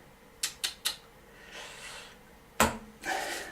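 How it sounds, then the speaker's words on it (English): Playing cards are riffle shuffled and handled in a card magic routine: three quick sharp snaps, a soft whirring riffle, one louder crisp slap, then another brief fluttering riffle, close and alone without speech. "and then hopefully the riffle shuffle like this"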